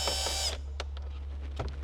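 A power tool spins out a 10mm bolt inside a 2024 Toyota Land Cruiser, giving a loud, steady whir for about half a second before stopping, followed by a few faint clicks and taps.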